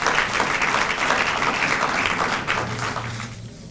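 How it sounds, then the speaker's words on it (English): Audience at the ECOWAS Ambassadors' Awards Reception applauds Mel with a dense, sustained burst of clapping that stays steady and then fades near the end. "So I want all of us to give Mel a hand of applause."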